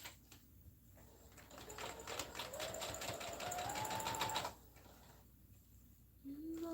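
A sewing machine runs a short burst of stitching, a rapid rhythmic clatter with a rising motor whine for about two seconds between quieter pauses, close and fairly faint, with no talk.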